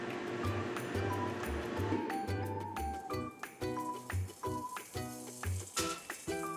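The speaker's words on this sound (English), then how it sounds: "I can hear it sizzle already." Continuous crackling sizzle of basil leaves in a hot air fryer, steady and close, with a low rumbling hum and scattered clicks and clatters throughout.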